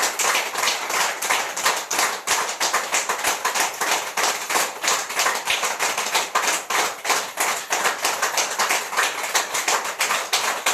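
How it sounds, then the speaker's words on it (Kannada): A group claps hard and fast during a tai chi exercise. Sharp, rapid clapping goes on without a pause, dense and loud for the whole stretch, with no voices over it. "ಓಕೆ, ಚಪ್ಪಾಳೆ, ಜೋರಾಗಿ ಚಪ್ಪಾಳೆ."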